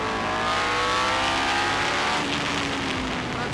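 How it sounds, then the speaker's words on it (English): Tyrrell P34 six-wheeled Formula 1 car with a 3-litre DFV V8 engine, heard from the cockpit: a loud, steady high-pitched engine howl climbing under acceleration, then a brief dip at a shift before pulling on. "Fantastic pull on the engine, the 3-litre DFB V8."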